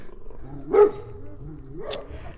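A pet dog gives a single sharp bark, then a fainter whining yip a second later, fairly close with low background noise and no talk.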